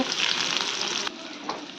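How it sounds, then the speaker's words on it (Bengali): Chopped onion and green chilli fry in oil in a wok, giving a steady, close sizzling hiss with faint stirring scrapes, easing a little toward the end. "পেঁয়াজটা আমি বেশি ভাজবো না, হালকা ভেজে নিলাম।"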